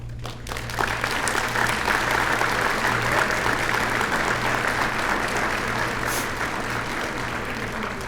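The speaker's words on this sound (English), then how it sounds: "Let's give them a warm round of applause as we welcome them to our chamber family." Warm applause at a chamber of commerce awards banquet welcoming new members, a steady, loud roomful of clapping over a low constant hum, sustained evenly across the whole stretch.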